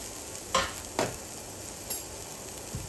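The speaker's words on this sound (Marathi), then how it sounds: "लसूण, कढीपत्ता आणि थोडासा कांदा फोडणीला घालायचा आहे" Garlic, curry leaves and a little onion sizzle in hot oil for a tempering, a faint steady fry broken by a few soft stirring scrapes, with no talking.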